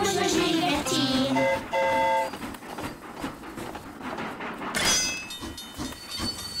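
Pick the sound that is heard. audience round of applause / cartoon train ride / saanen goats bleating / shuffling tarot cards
cartoon train ride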